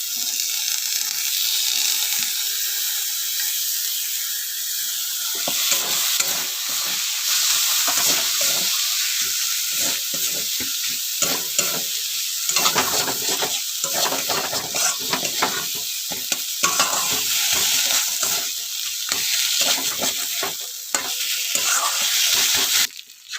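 Soaked chana dal and slit green chilies hit hot oil for a mixed vegetable curry, giving a steady loud sizzle that swells after a few seconds, broken by frequent scraping stirs and spoon clacks, with no voices.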